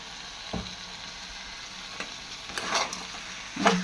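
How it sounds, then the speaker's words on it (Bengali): Lotir ghonto (taro stolon dish) frying in mustard oil as it is stirred, a low continuous sizzle broken by occasional scraping strokes of a spatula against the pan, close and quiet with no talk. "জমিয়ে কষা কষা রান্না হচ্ছে। নেড়ে চেড়ে আর কি একটু ঢেকে দিই এটা।"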